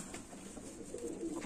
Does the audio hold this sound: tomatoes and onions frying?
no